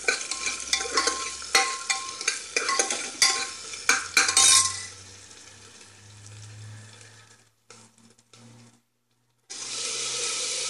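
Tomato and garlic stir-fried in a pan for a masoor dal with brinjal, opening with rapid, loud clattering scrapes of a spoon against the pan, then easing to a quieter sizzle broken by a short silence.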